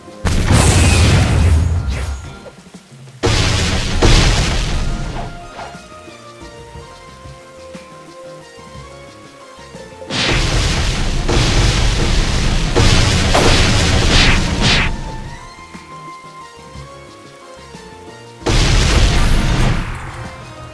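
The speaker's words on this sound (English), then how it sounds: "Self-destruct takes away half of your health, but promise it is worth ITI." Self-destruct explosions in the video game Blox Fruits come as repeated loud booming blasts with a crashing, rumbling quality. Several bursts are separated by quieter stretches of background game music.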